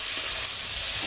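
Vegetables sauté in a pan, giving off a brief, even hiss of sizzling and steam at moderate volume with no speech.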